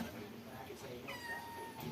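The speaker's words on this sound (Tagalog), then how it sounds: "Dami rin pusa dito." A cat meows faintly in the background at a rural provincial home meal, heard under ongoing conversation and general room noise.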